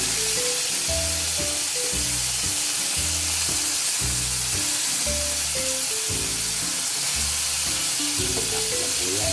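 A yellowfin fish steak fries in a pan, giving off a constant hissing sizzle that runs under rhythmic background music throughout.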